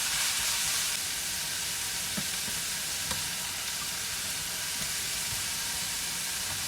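Onions fry in a pan in a village kitchen, giving a steady, close hiss of sizzling with a few faint clicks and no voices.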